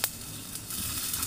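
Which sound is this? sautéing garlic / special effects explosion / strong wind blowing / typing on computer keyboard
sautéing garlic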